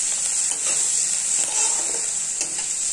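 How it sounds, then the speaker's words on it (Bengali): Dried chilli powder and spices frying in a pan with dry fish filling for stuffed taro-leaf rolls, a steady broadband sizzle with faint stirring scrapes running continuously throughout. "তো এখনো অনেক ভাজা ভাজা হবে।"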